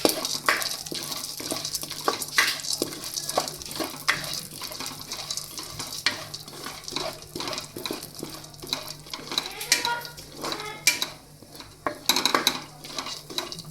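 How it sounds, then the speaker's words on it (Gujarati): Dry fruits roasting in ghee in a pan, with a spatula scraping and clinking against the metal in irregular strokes over a soft sizzle, close and moderately loud throughout. "હવે ફરીથી આપણે તે જ પેનમાં ઘી નાખી અને આપણા જે ડ્રાયફ્રૂટ્સ છે તેને પણ શેકી લેશું."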